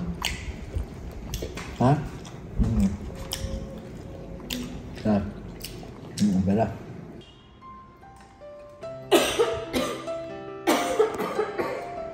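A woman coughs several times in short bursts, close and fairly loud, with squishy wet sounds and other voices talking around her indoors.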